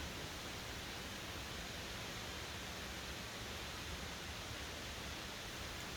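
Water pours over the upper falls at Balls Falls, cascading over Lockport Dolostone cap rock onto Rochester Shale, a steady, even hiss of rushing water heard faintly and continuously with no voices.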